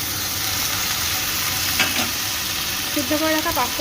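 Boiled pasta is stirred into fried vegetables in a pan for an egg pasta dish, giving a steady loud sizzle with scraping stirring strokes and a few clinks toward the end, close and without talk.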